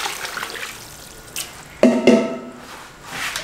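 Water pours briefly onto raw chicken pieces soaking with salt and vinegar for korma, a short splashing gush midway through an otherwise quiet, faintly hissing background.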